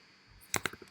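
Keys on a computer keyboard clatter in a quick burst of three or four crisp, close clicks, with a few softer taps trailing off after a short quiet moment.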